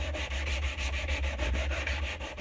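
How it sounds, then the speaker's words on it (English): A wooden axe handle sanded by hand, a steady rhythmic back-and-forth rasp of about a dozen quick strokes, close and even, with no talking. "So sand it now."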